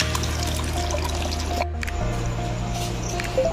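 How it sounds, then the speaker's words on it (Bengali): Red mutton and potato curry is poured from a pressure cooker after cooking, giving a continuous wet liquid pour with soft drips and sloshing over a steady background hum, close and without speech. "আমার আলু দিয়ে লাল লাল খাসির মাংসের ঝোল হয়ে গেল ঢেলে নিচ্ছি আমি"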